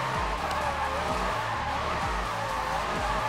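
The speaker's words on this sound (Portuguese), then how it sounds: "Vejam bem, eu estou a queimar pneu, como vocês podem ver." A rear tyre screeching in a burnout in Need for Speed Most Wanted, with a continuous loud squeal over a revving engine whose pitch rises and drops in repeated surges.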